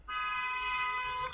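A single sustained car horn blares outside for over a second, distant and muffled but clear, with no one speaking over it.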